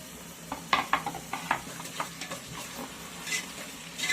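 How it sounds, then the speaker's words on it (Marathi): Onion and tomatoes sauté in hot oil for egg biryani, with a spatula scraping and tapping the pan in quick irregular strokes over a steady, soft sizzle, close and alone. "व्यवस्थित सगळं परतून घेऊया आपण हे तेलामध्ये"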